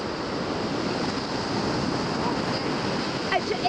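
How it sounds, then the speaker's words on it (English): Ocean surf washing steadily onto a Florida beach, a continuous broadband roar of moderate waves with some wind, fairly close and even throughout, with faint voices or splashes near the end. "Because the waves are not too rough."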